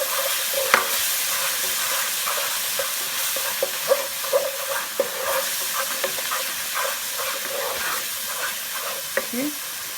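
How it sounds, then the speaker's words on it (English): Spoon stirring coriander powder, turmeric, mango powder and lime juice in a sizzling pan for okra curry, with steady hiss and frying crackle under intermittent scraping clicks, close and moderately loud. "Give that a good stir."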